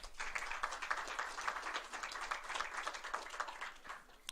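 Audience at an electoral oversight forum in Coahuila applauds after a speaker is introduced: faint, steady clapping with a slightly uneven rhythm, heard from a distance and alone.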